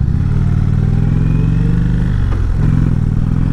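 A Harley motorcycle's oil-cooled engine idles close up with a loud, steady, throbbing rumble and a brief dip in pitch near the end, with no voices.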